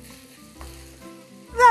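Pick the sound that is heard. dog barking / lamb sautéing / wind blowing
lamb sautéing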